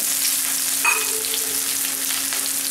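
Liver fry sizzling in a pan as curry leaves are added, a continuous crackling hiss with a steady hum underneath and a brief sharper spatter as the leaves drop in.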